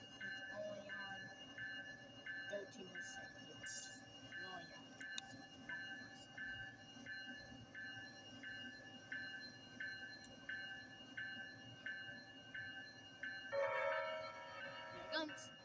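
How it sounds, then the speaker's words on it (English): Trains rolling past at a distance, a faint steady rumble with repeated rhythmic clicking and a brief louder screech near the end, heard alone and fairly quiet. "Trains."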